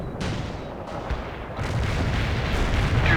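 Rocket artillery strike in the real-time strategy game World in Conflict, a series of heavy booming impacts and rumbling blasts that build into sustained, loud explosive thunder.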